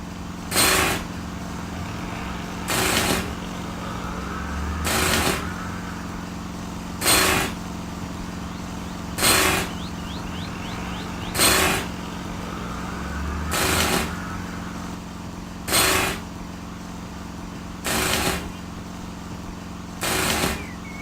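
In a video game, a steady mechanical drone runs throughout, broken by regular loud bursts roughly every two seconds, like an air compressor powering a pneumatic drill cycling nearby.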